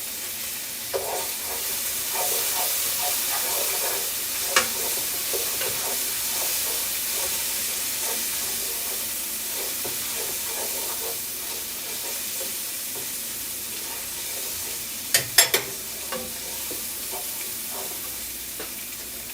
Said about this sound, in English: Make sure you stir it up nicely.